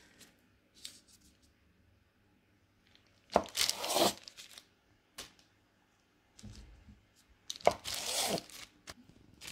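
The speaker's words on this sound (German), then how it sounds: "und dann schneiden wir jetzt hier, ja, solche Stücken" A knife slices through cinnamon roll dough into pieces in two distinct bursts of crisp cutting and scraping against a board, close and fairly quiet with pauses between.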